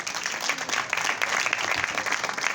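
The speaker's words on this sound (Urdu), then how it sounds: "زوردار تالیاں بیٹی کے لیے" An audience at a Good Friday church meeting claps in sustained, dense applause, a steady crowd of hands throughout with no break.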